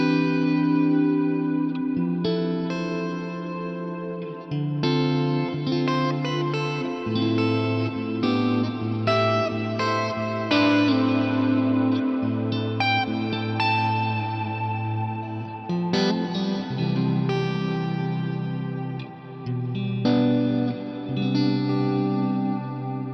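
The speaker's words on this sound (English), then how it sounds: "I love the sound of the Stratocumulus reverb." A Stratocumulus cloud-type reverb with a long decay washes over sustained harmonic tones and chords, giving a lush, smeared, continuous ambience at steady loudness with no talking.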